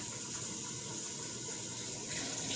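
Tap water pours steadily into a cooking pot, filled about halfway for boiling cubed potatoes, a constant soft rushing gush with no breaks.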